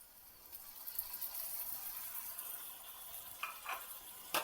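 Grated tomatoes slide into a pan of frying ivy gourd (tindora) curry. A soft, steady sizzle runs throughout with a wet, pouring texture, punctuated near the end by a few light clinks and taps, with no one talking.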